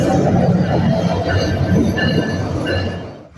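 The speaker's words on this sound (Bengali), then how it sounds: "শান্টিং বেল বাজিয়ে প্রবেশ করতেছে রংপুরগামী রংপুর এক্সপ্রেস ট্রেন।" The Rangpur Express rolls into a station junction, its heavy rumble and clattering carriages joined by high wheel squeal and ringing bell tones, loud and continuous before easing off at the end.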